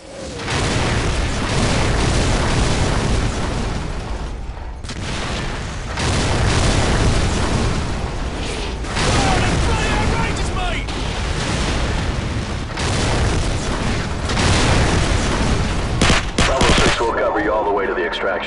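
Air support fire mission explosions in Call of Duty 4: Modern Warfare, with repeated heavy booms and bursts of gunfire over a constant loud battle roar, briefly dropping out twice, with voices under the din.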